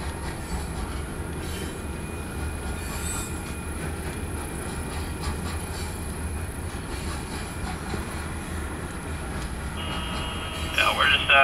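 A KCS freight train led by locomotive 4036 departs with a steady low rolling rumble and wheel noise, and a radio voice is heard over it.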